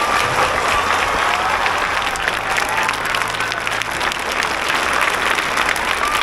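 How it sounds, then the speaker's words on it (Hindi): An award ceremony audience for annual day participants bursts into sustained, loud applause, a thick even roar of clapping from a sizeable crowd lasting several seconds, with faint crowd noise underneath. "इनके लिए एक बार जोड़ा तालियां बजाएं"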